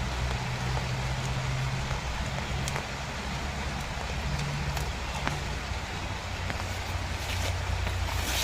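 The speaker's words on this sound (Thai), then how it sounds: "ตอนนี้ฝนตกครับทุกคน" Steady rain falls in a forest during a mushroom- and herb-gathering trip, a continuous close hiss of drops on leaves and ground with faint low rumble beneath and no voices.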